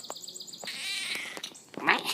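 An old cat meows several times in quick succession, close and fairly clear, with short plaintive cries and a more drawn-out caterwaul near the end.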